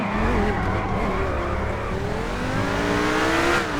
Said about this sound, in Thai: ให้น้องๆฟังเสีงเครื่อง